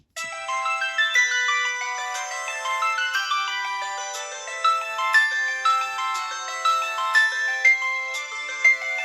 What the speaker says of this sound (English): This one uses the same notification sound as my Android Verizon phones, as you can see here.